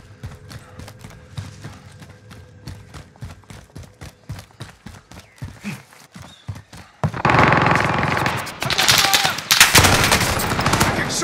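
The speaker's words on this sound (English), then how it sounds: "Taking shots over here." Gunfire in Call of Duty Warzone: a rapid, evenly spaced burst of automatic shots, followed by a louder, denser barrage of sustained firing, with no talk over it.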